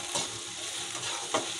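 Capsicum being stirred and mixed in a hot pan for pasta: brief soft sizzling with a couple of scraping spoon strokes, close and quiet, with no talking.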